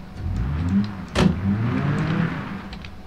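A broken-down car sits with its engine running, a steady low idle that stays constant for a few seconds, with one brief sharp mechanical knock partway through and no voices.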